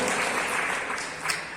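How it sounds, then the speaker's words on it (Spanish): A church congregation gives a brief, loud round of applause, a dense continuous clapping wash lasting under two seconds. "Denle fuerte el aplauso al que vive."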